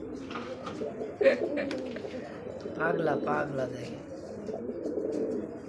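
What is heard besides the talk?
pigeon cooing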